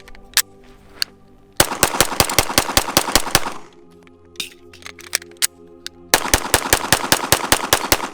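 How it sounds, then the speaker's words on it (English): A Canik TP9DA pistol is fired rapidly in sharp, loud, evenly spaced shots, grouped into several quick strings with short pauses between them, and no talking. "So I just did 40 rounds relatively rapidly through this"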